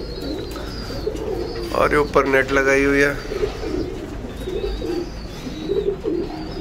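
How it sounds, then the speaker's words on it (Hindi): Pigeons pecking grain coo in soft, throaty bursts close by while someone talks over them, with a steady low background hum. "तो भाई इस टाइम पे जोड़े वाले कबूतर दाना चुग रहे हैं"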